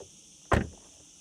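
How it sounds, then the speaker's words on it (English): The frameless door of a Ferrari Amalfi closes with a single close, solid thump that decays quickly over a quiet background. "it's a decent door closing sound. We have heard better ones with frameless doors, but also way worse ones."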